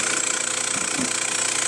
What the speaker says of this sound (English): There's this great motor. You can use it as a suction motor.